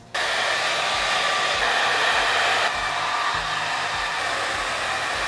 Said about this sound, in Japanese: 乾くのが待てないのでドライヤーで乾かしたいと思います。